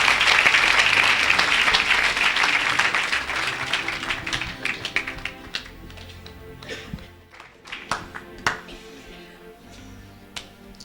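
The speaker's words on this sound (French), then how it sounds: "Somebody clap for the Lord." A church congregation claps and cheers for the Lord, with dense applause at the start that thins into scattered claps and taps, mixed with some voices.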